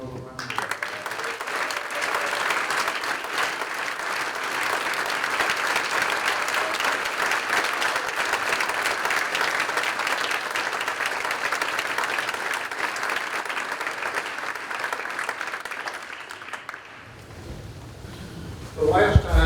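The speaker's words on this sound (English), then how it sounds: "we ought to give these young people another round of applause" Sustained round of audience applause for a group of young people in a courtroom assembly, broad and even for about seventeen seconds before tapering off, followed by a brief quiet moment and a faint stir.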